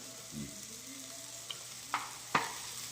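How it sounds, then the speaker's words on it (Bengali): Ground chili, turmeric, and coriander-cumin powder quietly sizzle in a pan, with a few sharp clinks of a utensil near the end, no voices. "এবার এটাকে ভালো করে ভাজা হবে।"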